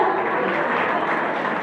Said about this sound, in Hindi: जोरदार तालियों